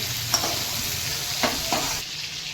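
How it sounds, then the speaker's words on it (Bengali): Shrimp frying in hot oil with a steady, close sizzle and a few soft stirring clinks, with no talk. "আমরা চিংড়ি মাছগুলো তেলেতে ভালো করে একটু ভেজে নেবো"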